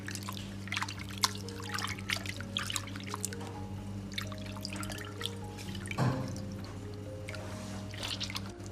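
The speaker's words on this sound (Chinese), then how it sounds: "用清水稍微清洗一下，去除里边的一些血水和腥气味" Cut strips of pork are rinsed in a bowl of clean water, giving close splashing, dripping and trickling sounds with soft clinks, steady and moderately quiet with no talking.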